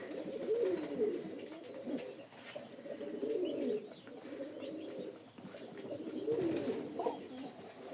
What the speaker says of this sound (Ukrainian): голуби пасуться.